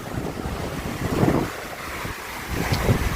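Noisy sea surf mixed with gusting wind buffeting the microphone, a continuous rough roar that swells in surges, heard close and alone without speech.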